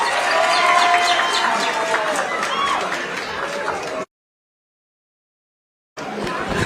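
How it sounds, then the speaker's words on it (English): Audience applause and cheering at a live political rally in Kenya: a loud, dense crowd claps and shouts continuously for about four seconds, drops to total silence, then bursts back in at full strength. "You may clap again."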